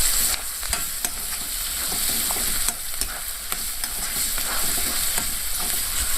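Scrambled baby shark fish frying in a pan, a steady close sizzle with repeated scraping and stirring strokes throughout, no voices.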